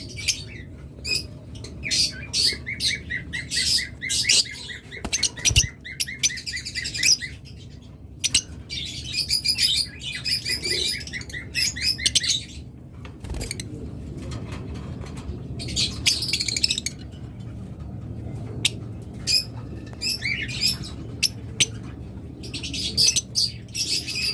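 Lots of lovebirds chirp and chatter in rapid, high-pitched bursts, close by and continuous, with occasional scuffles and thumps.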